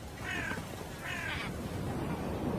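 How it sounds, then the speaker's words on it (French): Crows caw in two harsh, rasping bursts near an eagle, each call lasting about a third of a second, over a steady outdoor wind or surf background with no talking. "il est constamment accompagné d'un groupe de corbeaux"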